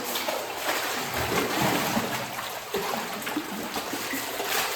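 Water splashing and trickling in a home fish pond during cleaning as fresh water runs in through a pipe, a steady close wash of splatter and sloshing.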